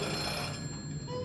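A telephone rings as a sound effect in a live radio play staging of The Great Gatsby, a steady, fairly faint tone held under a constant room hum, with no voices.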